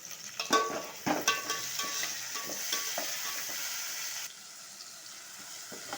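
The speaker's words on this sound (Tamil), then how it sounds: "வெங்காயம் எல்லாம் வதங்கிட்டு தக்காளி பச்சை மிளகா போட்டுக்கலாம் இதையும் நல்லா வதக்கி விட்டுப்போம்" Onion, tomato and green chili sautéing in a pan, a steady sizzle with scraping stir strokes and clinks of a spoon, close and moderately loud, easing off near the end.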